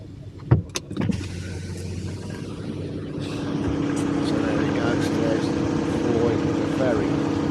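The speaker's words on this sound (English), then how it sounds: "Might wind the window down." A car's electric window winds down aboard a ferry, a brief motor whir after a few knocks and clicks, then a steady engine and ship rumble with faint voices in the background.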